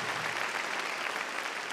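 A church congregation claps loudly at a Sunday evening service, a dense, even roar of many hands that carries without a break from start to end.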